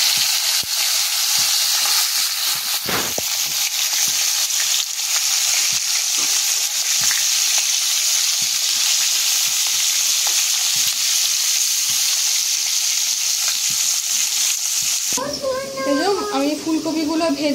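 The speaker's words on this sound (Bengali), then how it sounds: "দেখুন মাথাটা, কাতলা মাছের মাথাটা ভেজে নিচ্ছি।" Catla fish head frying in a pan gives a continuous loud, bright sizzle that holds steady for most of the clip, then a voice briefly speaks near the end.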